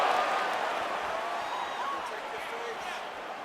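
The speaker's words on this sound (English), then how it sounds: "You hear this crowd just eating out of his hand, oohing and on every time he advances" Arena crowd in a UFC 4 fight game reacts with a sustained, swelling murmur of oohs, steady and moderately loud throughout, with no talking over it.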